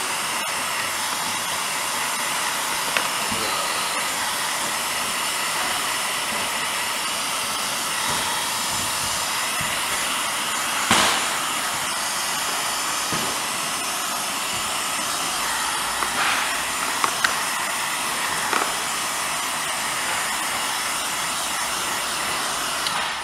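A heat gun blows steadily on the middle of a PVC pipe bow handle, a loud, even hissing roar held throughout with a few faint clicks and knocks.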